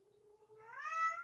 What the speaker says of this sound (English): It's upsetting my cat.